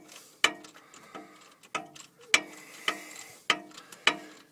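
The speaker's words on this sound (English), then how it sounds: "I just happened to find this other ratchet and it just fits in there" A hand ratchet clicks as it turns a bolt during a transfer case install on a 1996 Chevy Tahoe, close and crisp, in short bursts of sharp ticks separated by brief pauses.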